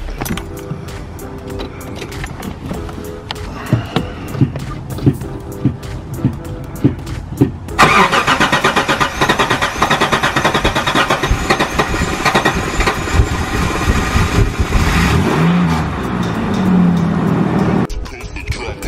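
A car engine cranks and starts after a repair under the car during an Australian winter, with clicks and handling noises first, then a loud steady engine run lasting about ten seconds before cutting off, as someone speaks.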